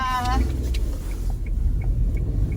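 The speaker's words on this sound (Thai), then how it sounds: "แล้วก็ขับออกไปเลย" A car pulling away on the drive to work gives a low, steady engine rumble from inside the cabin, with a voice talking over it briefly.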